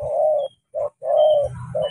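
A caged spotted dove coos nearby in a steady rhythm of low, rounded notes, with a short pause between phrases and no talking.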